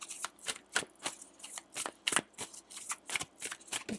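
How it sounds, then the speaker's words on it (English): A deck of cards is shuffled again and again in quick, rhythmic riffling bursts, close to the microphone and fairly soft, with no talking. "I think I need to move back a little when I shuffle these cards."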